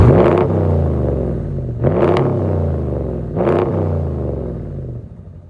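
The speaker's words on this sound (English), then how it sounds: "I'll do some revs for you guys" A RAM 1500 Classic pickup truck's engine is revved three times from a low idle rumble, each rev rising quickly to a loud roar and falling back, recorded close to the ground.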